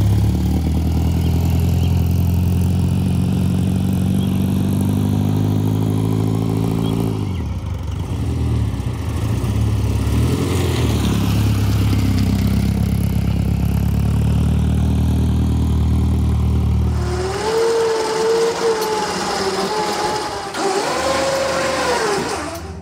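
A Shorrock-supercharged Austin-Healey Sprite runs close by with a loud, steady engine drone and supercharger whine, then revs and pulls away, its rising gear-change notes fading with distance toward the end.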